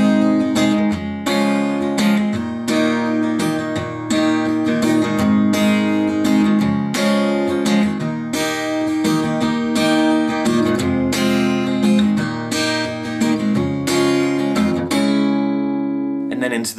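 Capoed acoustic guitar strumming the verse of a song, a steady, full, close strummed rhythm sustained throughout and ringing out at the end.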